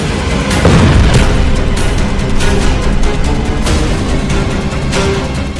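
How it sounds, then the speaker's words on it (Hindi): A powerful explosion rips apart a car on a Moscow street, a loud, dense booming roar that fills the whole stretch with rumbling debris noise and no speech. "इस कार के परखच्चे उड़ाने वाला धमाका हुआ"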